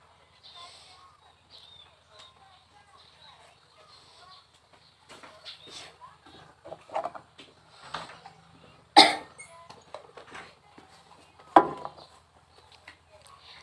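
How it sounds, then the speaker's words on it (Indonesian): A person demonstrates the effective coughing technique after deep breaths, giving sharp close coughs around the middle and near the end, with quieter breathing and small sounds between them. "pada pengambilan nafas yang ketiga, bisa dibatukkan dan keluarkan sekdatnya"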